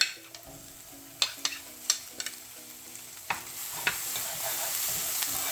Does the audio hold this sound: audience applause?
no